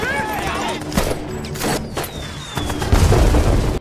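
Gunfire and booming explosions ring out in a fierce film battle between special forces and mercenaries, with scattered shots and blasts under a narrating voice.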